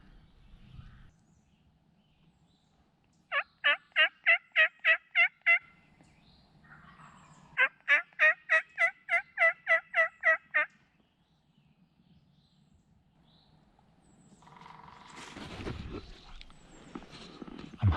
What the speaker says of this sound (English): Unless he's just got a really weird gobble. Yeah, it really sounds like 2.